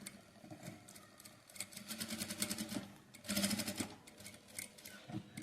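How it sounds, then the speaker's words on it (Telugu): A sewing machine runs in quick rattling bursts while double-stitching the front of a blouse, close and fairly quiet, with brief pauses between runs of stitches. "ఇలా రెండు డబల్ కుట్టేయాలి."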